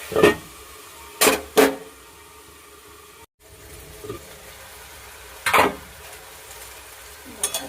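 Bottle gourd and potato stir-fried together in a pan for a prawn curry, with a low steady sizzle and a few sharp scraping strokes of the spatula against the pan, occurring alone without speech.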